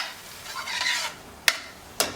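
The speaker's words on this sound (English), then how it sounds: "Keep stirring the eggs so that the eggs do not get caught to the bottom of the pan" Egg burji with chorizo being stirred in a pan, a steady soft scraping under a faint sizzle, with two sharp utensil clicks against the pan near the end.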